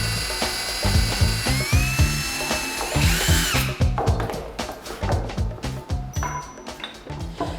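A power drill bores a countersunk hole into wood for a floating shelf, loud and close, with bursts of whining and revving followed by choppy, repeated drilling pulses.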